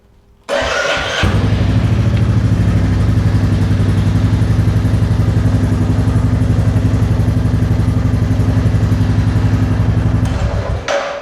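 A Royal Enfield Classic 350 motorcycle, restarted after a long idle period following tank removal and valve clearance work, fires up abruptly and settles into a loud, close, steady thumping idle that runs evenly until it cuts off.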